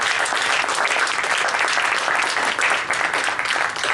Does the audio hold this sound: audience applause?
yes